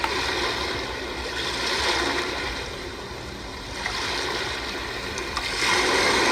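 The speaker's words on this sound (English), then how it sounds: "This is the ocean." A white noise machine's ocean setting plays slow swelling waves of hissing surf that rise and fall every few seconds, steady and moderately loud, with no talking.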